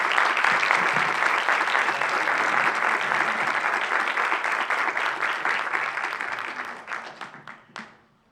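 An audience at a casting talk gives loud, dense, close applause that holds steady, then thins out and stops, ending with a few scattered last claps.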